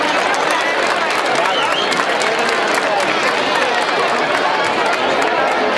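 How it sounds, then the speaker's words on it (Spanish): Audience applause at a school director's report honoring fifth-year students, a steady dense wash of clapping from a crowd, continuous and fairly loud throughout with murmuring mixed in. "Yo creo que se merecen ese aplauso"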